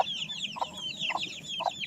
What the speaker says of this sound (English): Why are there more chickens going in there?